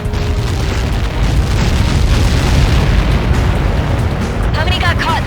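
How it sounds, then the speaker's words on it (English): A missile impact blast in the combat flight game Ace Combat 7 booms as a loud, sustained rumbling explosion that fills the whole stretch, with a dense low roar and a faint radio voice near the end. "How many got caught in that explosion?"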